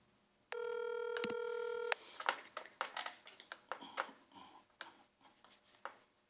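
A telephone is dialed: a long steady tone, then a run of sharp clicks and beeps from keypresses, fairly close and alone with no voices.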